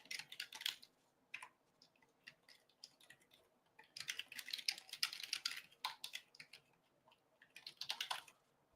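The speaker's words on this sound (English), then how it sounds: "Jeez, what am I typing?" Fingers type on a computer keyboard in quick, close clusters of key clicks separated by short pauses, quiet and alone.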